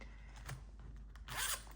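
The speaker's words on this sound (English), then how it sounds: "that's a better zipper. This opens slightly easier." A wallet zipper is pulled open, a short raspy zip with a louder final stroke, close and clear with no talking.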